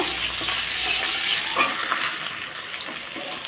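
Chopped onion fries in a pan with a continuous bright sizzle and crackle, close and steady, with light stirring noises mixed in.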